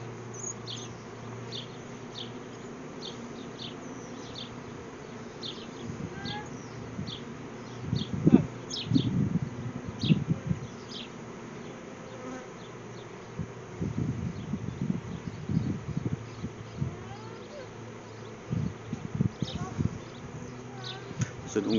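An artificial swarm of about 1.2 to 1.5 kg of honey bees moves into a hive, filling the air with a continuous, fairly faint buzzing drone and passing wingbeat whirs, while voices murmur at times nearby.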